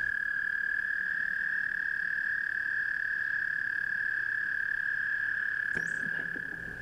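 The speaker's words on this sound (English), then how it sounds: "We may hear the high-pitched trilling of an American toad." An American toad gives a long, high-pitched, unbroken trill, loud and steady for several seconds, with a brief rustle near the end as it fades.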